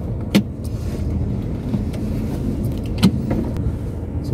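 Ford Endeavour SUV driving on quiet city roads in drive mode, heard from inside the cabin as a steady low rumble of engine and road noise, with two brief louder knocks or clicks along the way.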